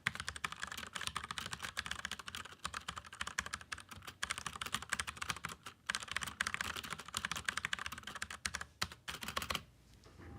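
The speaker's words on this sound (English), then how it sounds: "So this is the old keyboard." Steady, fast typing on an old computer keyboard, close and continuous with dense clicky keystrokes for about ten seconds before stopping abruptly.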